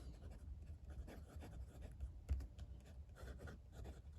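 A Jinhao Dadao 9019 fountain pen with a fine number 8 steel nib, loaded with Montblanc Midnight Blue ink, scratches steadily across paper in close, quiet, continuous strokes.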